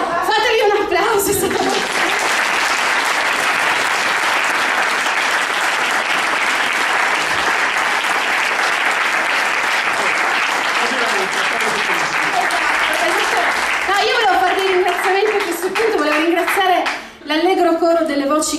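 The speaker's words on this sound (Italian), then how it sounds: "fatevi un applauso" Long, steady audience applause after a poetry reading, many hands clapping at full strength, with voices and a little laughter rising over it before a brief dip near the end.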